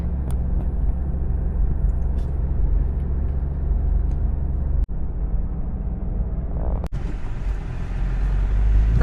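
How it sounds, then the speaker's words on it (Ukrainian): An old, still-working small tractor drives off a small field, producing a continuous low engine rumble at moderate distance, steady throughout, broken by two brief sharp clicks; no speech. "Тракторець їде, виїхав з цього міні-поля."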